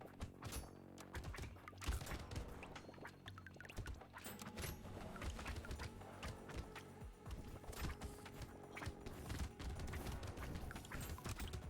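A chaotic barrage of explosions in the game Brotato, rapid overlapping bursts and crashes piling up continuously at a busy, even level with no talking.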